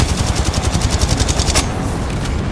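Rapid automatic gunfire in the video game Apex Legends, a dense burst of evenly spaced shots for about a second and a half, loud and close, then cutting off into a lingering echo.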